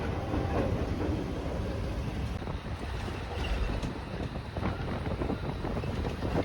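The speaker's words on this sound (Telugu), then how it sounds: "ఒక స్మాల్ ట్రైన్." A continuous low rumble and rattling clatter of a small train rolling past in Vijayawada, with wind noise throughout, fairly close and steady.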